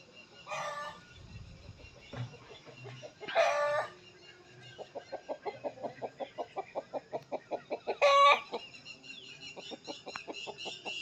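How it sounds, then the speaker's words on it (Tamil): A young farm rooster gives a few short, strained crows with a rapid run of rhythmic clucks in between, heard fairly close in a quiet outdoor setting. "பாருங்க, சேவல்."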